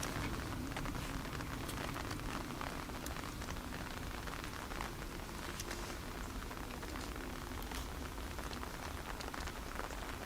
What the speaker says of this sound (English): Here's that rain now, as you can probably hear on the umbrella.